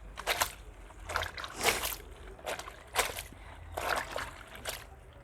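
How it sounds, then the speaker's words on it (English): Dark clothes being hand washed and agitated in soapy water, rhythmic sloshing splashes in repeated bursts about every half second to second, close by. "Try not to agitate the dark clothes too much"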